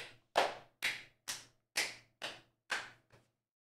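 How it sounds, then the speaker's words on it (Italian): Seven slow, sharp hand claps ring out one by one, evenly spaced and close, against near silence, with the last clap much fainter. "Un applauso."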